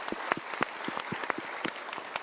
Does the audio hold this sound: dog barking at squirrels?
no